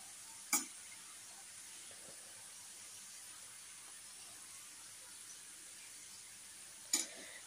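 Slices of raw banana frying in oil in a pan, giving a faint, steady sizzling hiss throughout, broken by two brief clatters of stirring near the start and end.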